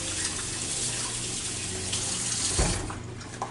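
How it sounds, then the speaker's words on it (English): A kitchen sink tap runs steadily while hands are washed beneath it, a close, continuous gush of water with a brief splashy break near the end and no talking. "Need to wash my hands just a little bit here."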